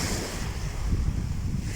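Sea waves at Azla beach near Tetouan roll in as a steady, continuous surf wash, with gusts of wind rumbling across the microphone throughout.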